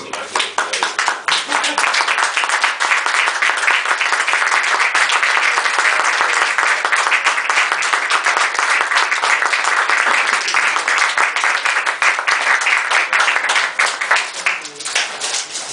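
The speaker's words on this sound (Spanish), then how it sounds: "lo mejor es acariciarlo con un buen aplauso" At the presentation of Carlos J. Alvarez's book Historias jocoserias, an audience breaks into loud, sustained applause, a thick, continuous roar of clapping close by that holds steady for about fifteen seconds before easing slightly.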